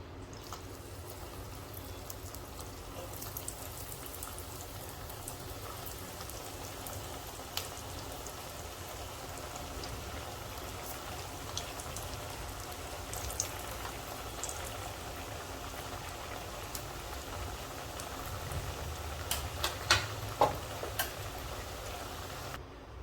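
Taro leaf aloo vadi pieces frying in hot oil, a steady close bubbling hiss with faint crackles and occasional sharper pops toward the end, no talking.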